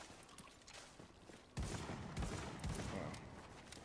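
Gunfire in The Division's Dark Zone PvP area: faint scattered shots at first, then a sharp louder burst of rapid fire that keeps rattling in quick volleys, fairly distant and low in level.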